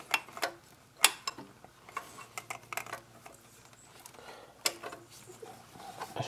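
Clicks and ratcheting taps of a wrench loosening a bolt on a Toyota clutch slave cylinder, several sharp metallic ticks spread irregularly over quiet background, close and moderately loud.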